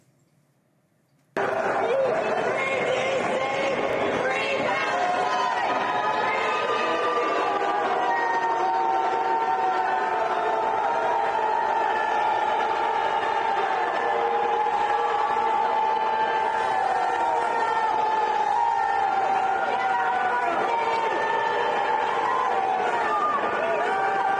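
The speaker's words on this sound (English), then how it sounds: "Booing is what that weird sound was." Crowd at Union Station, the main train station in Washington, D.C., booing the National Guard, a dense sustained roar of many voices with rising and falling jeers that starts abruptly after a brief quiet and holds steady and loud throughout.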